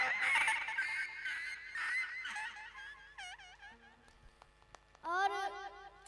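A voice imitates a dog crying, producing a series of wavering, honking whines and yelps in repeated bursts, close and fairly loud.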